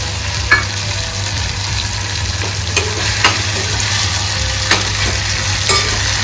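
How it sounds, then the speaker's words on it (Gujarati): Tomatoes sauté in a pan for a gravy base, a steady close sizzle running throughout with a few sharp clicks and scrapes of stirring, and no talking. "હવે આને ટમેટાની ગ્રેવી થવા દેવાની થોડી ટમેટાને હવે બહુ સારી રીતના સાતળવા દેવાના"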